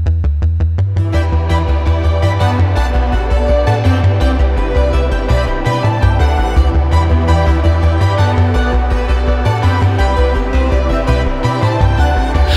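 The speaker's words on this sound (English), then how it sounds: "So drumless version of a track, of this particular track, sounds something like this" A drumless version of a music track plays back loud and full, sustained bass and dense instruments running steadily throughout without a break.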